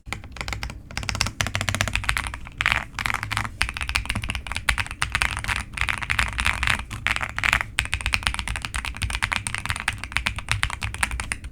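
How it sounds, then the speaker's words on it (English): Fast, steady clatter of computer keyboard keys being typed on nearby, dense bursts of clicky taps with brief pauses, heard alone without talk. "listen to how good my keyboard sounds."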